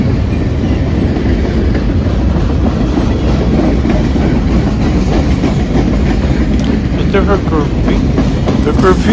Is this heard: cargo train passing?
yes